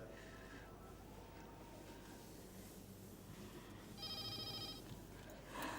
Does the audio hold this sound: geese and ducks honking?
no